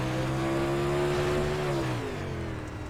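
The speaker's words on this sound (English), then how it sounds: "Now he's barely on the throttle. Hear that?" Onboard late model race car engine humming steadily at moderate revs while the driver barely touches the throttle, pitch sliding down near the end as it eases off, close and alone.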